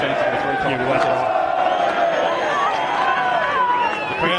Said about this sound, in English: The crowd get behind the Blues